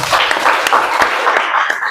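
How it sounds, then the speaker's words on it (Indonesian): A classroom audience claps together at the close of an Islamic cultural history lesson, giving a steady, dense burst of applause for about two seconds with no talk over it. "Tepuk tangan semuanya."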